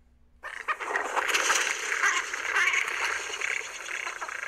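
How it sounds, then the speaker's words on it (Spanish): A cinnamon teal duck calls at a lagoon, a continuous burst of raspy, chattering quacks that starts abruptly and carries on steadily at close range. "Seguimos con Cinnamon Teal. Espátula Cyanoptera."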